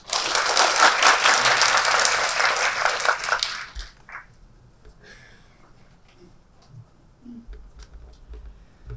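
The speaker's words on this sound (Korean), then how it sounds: "네 분, 5분께 큰 박수를 보내드리면서 네, 시작을 해보도록 하겠습니다" An audience applauds at a conference session, brisk dense clapping for about four seconds that then stops abruptly, leaving a quiet room with a few faint knocks and rustles.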